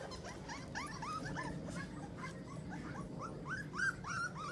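One-month-old rottweiler puppies whimper and yip in a litter, a rapid overlapping chorus of thin high whines and squeaks over a low background murmur, fairly close and continuous.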